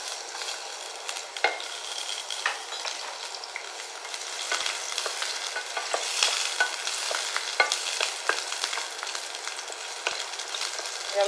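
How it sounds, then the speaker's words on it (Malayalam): Chopped garlic frying in a hot pan, a steady close sizzle with scattered crackles and occasional stirring scrapes throughout, no voices. "വെളുത്തുള്ളി ഇടാം."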